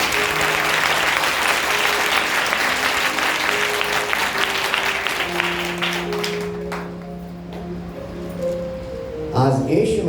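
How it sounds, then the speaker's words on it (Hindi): A church congregation at a Hindi Christian prayer service claps together. The loud, dense applause runs over sustained music tones, thins out partway through, and a short burst of sound returns at the close. "हालेलुया, ताली बजाएंगे"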